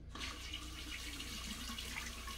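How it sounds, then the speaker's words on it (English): Tap water runs steadily and close by in a bathroom sink while a straight razor is rinsed off after a shave, a continuous hiss with no talk. "I will be very careful rinsing this off."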